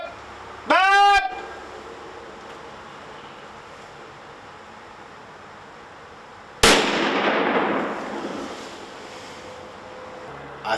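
A single sharp gunshot at an 8-point buck from a hunting blind, with a decaying echo after it. Earlier there is a brief rising whistle-like call over a quiet outdoor background.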